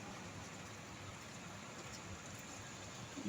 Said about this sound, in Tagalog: Ngayon lang ulit umulan guys dito.